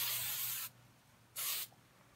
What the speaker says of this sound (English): a little hairspray.